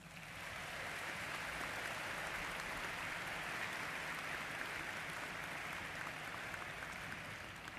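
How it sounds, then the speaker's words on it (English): Sustained audience applause at a winter university commencement ceremony, a dense steady wash of many hands clapping in a large hall, rising in and holding evenly throughout with no voices over it. "let's give them a round of applause"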